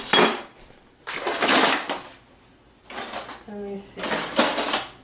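Forks and other cutlery clatter in a kitchen while corned beef cooks, with several loud bursts of metallic jangling separated by pauses and a short spoken remark in the middle.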